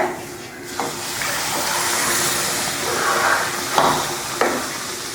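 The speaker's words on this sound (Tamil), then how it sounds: "இப்போ நம்ம பாலை ஊற்றிடலாம்." Milk poured into hot, lightly roasted semolina in a pan for rava gulab jamun, giving a loud continuous hiss and bubbling sizzle with a few sharper splashes, heard close up.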